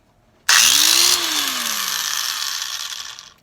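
A Mitsushi angle grinder with a sanding disc whirs up abruptly and runs loud and steady, its pitch dipping slightly as it settles into a high, harsh grinding whine with a binding sound before winding down.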